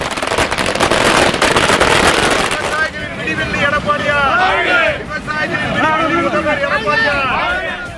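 Firecrackers burst at an outdoor political celebration in Tiruvannamalai, a dense crackling barrage followed by scattered pops and whistling rockets under crowd noise and voices.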